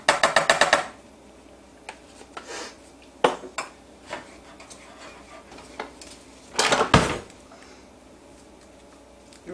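A whisk clatters against a bowl of cream for chocolate syrup in quick metallic bursts, a rapid rattling at the start and another near the end, with softer taps and scrapes between.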